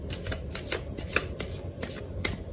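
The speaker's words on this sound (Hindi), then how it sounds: "One more shuffle." Oracle cards are shuffled by hand in a steady series of quick riffling rustles and soft slaps, close and fairly quiet, with no talk.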